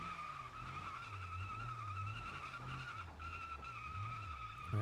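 A truck with a damaged tire drags and skids in the BeamNG driving game, giving a steady grinding scrape under a droning engine that rises and falls in pitch through the whole stretch, fairly quiet and continuous with no talking.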